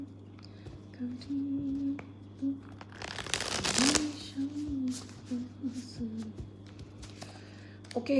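A deck of tarot cards is shuffled in one loud, riffling burst lasting about a second, set against a steady low hum with faint scattered handling noises before and after.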